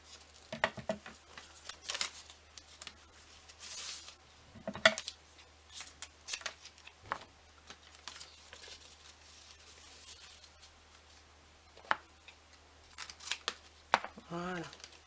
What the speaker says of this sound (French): On va couper 4 comme ceci.